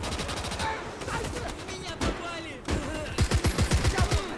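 Gunfire in the World War II video game Gates of Hell: loud, dense bursts of rifle and machine-gun shots with rapid repeated cracks toward the end, over a constant battle din, with talk mixed in.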